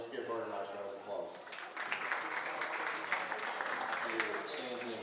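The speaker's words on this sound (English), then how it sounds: "Let's give her a nice round of applause" Audience applause at a county livestock show, a steady wash of clapping from the crowd lasting several seconds, with an announcer's voice carrying over it at the start.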